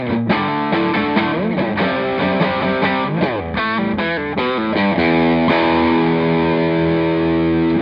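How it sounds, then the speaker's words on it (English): AGM-5C amplifier playing a dirty, distorted electric guitar tone, a series of crunchy chords and note bends, then a sustained ringing chord, alone with no talking. "Here's a demo of the dirty sound."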